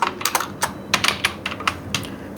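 Rapid, uneven keystrokes on a computer keyboard while text is entered in a word processor, a quick run of sharp clicks close by with short pauses between bursts.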